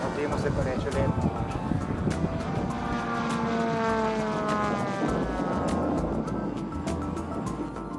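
The engine of a 1:2.5 scale replica model airplane drones steadily and loudly, its pitch rising and shifting, while people talk over it.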